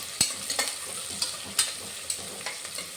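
Sliced onion sautéing in hot oil with cloves for egg biryani, a steady soft sizzle broken by repeated sharp scraping stirs of a spoon against the pan, close and moderately quiet with no talking.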